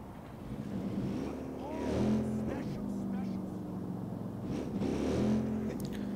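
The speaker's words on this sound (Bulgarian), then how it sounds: "Ей, чувате ли добре двигател, е?" A video game vehicle engine drones steadily with rising and falling revs, over a low background hum and some nearby murmuring voices.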